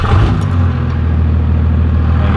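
A Cummins diesel truck engine runs loud and close in a steady, low, clattering rumble that holds evenly throughout, with no voices over it.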